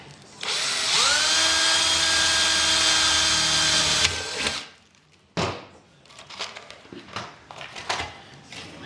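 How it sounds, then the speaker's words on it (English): A power drill whines loudly for several seconds as it bores through thin tin, then stops, followed by scattered clanks and handling noises. "I'll just drill out the other hole here"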